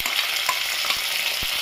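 Green chilli, onion and tomato frying in a pan with mustard seeds and cumin, a loud, steady close sizzle broken by a few light stirring scrapes.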